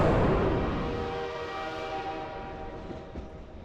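Subway train ride in the horror game Ignited Entry: a loud rumbling train with a tonal horn-like hum that slowly fades and settles into a steady, quieter rolling drone.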